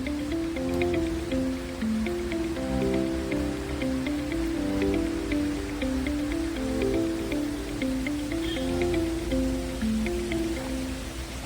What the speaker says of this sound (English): The water plunges down with such force, yet there's something calming about it.